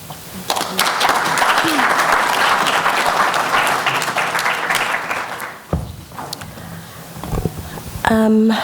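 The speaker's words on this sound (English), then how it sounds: "A big round of applause again for all the speakers." A workshop audience gives a sustained round of applause for the session's speakers, broad and even clapping filling the room before tapering briefly, with a voice and a tonal sound cutting in at the end.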